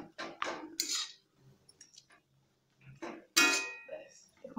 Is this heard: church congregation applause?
no